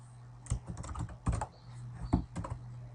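Computer keyboard keys clack in quick irregular bursts of typing, close and fairly quiet against a low steady hum, with no voices.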